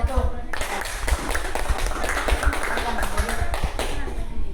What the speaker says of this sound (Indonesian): Beri aplaus untuk nomor 1